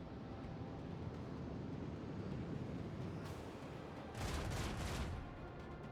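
Torpedoes fire during a space battle in Warhammer 40,000: Rogue Trader, heard as a loud, broad burst of blasts over a steady low rumble, with a brief swell before it and a heavier, roughly one-second salvo after.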